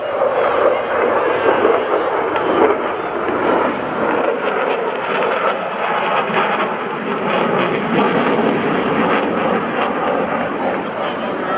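A US Navy jet roars past overhead at an airshow, a loud sustained engine rumble with wind buffeting, while a voice talks over a public address.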